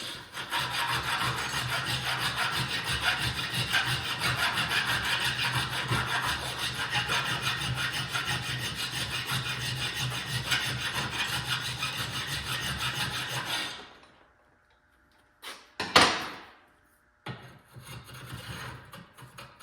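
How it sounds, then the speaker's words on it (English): A hand file rasps back and forth through freshly cut steel tubing clamped in a vise, a steady rubbing scrape for about fourteen seconds before stopping, followed by a few brief clanks in a quiet garage. "Just going to run a file through it, and that'll get rid of most of that."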